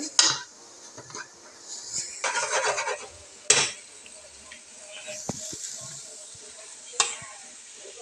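Onion and tomato fry without oil in a pan for paneer masala, with soft sizzling broken by close scraping stirs and clinks of a utensil against the pan.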